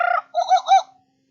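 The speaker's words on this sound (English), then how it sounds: "You will know it is time to turn the page when you hear the jungle bird call" A short, bright tropical bird call, two quick warbling notes close up, followed by silence.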